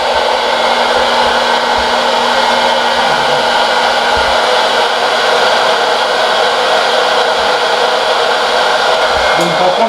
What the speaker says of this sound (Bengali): যাই মেশিন ঘুরছে, একটু পরের মধ্যে পপকর্ন আমরা বেঁধে থাকবো